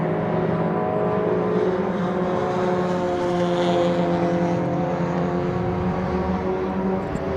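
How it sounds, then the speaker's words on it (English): A Ford Fiesta ST150 race car on the Silverstone circuit during a saloon and tin-top race, its engine a continuous droning whine heard at a distance amid steady track ambience, with no voices. "So, back through club comes the number 7 car, Ian Seal. His Ford Fiesta, the ST150s"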